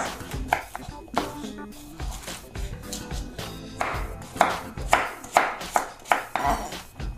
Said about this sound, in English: I'm just going to run my knife through one more time